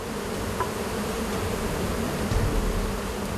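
Swarm of wild honeybees buzzing around a cliffside hive on a remote island, a steady dense drone with no talk.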